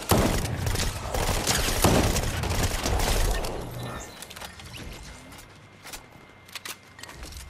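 Gunfire in a Fortnite match, a dense stretch of rapid shots and impacts for about four seconds, then sparser separate bursts, fairly close and loud.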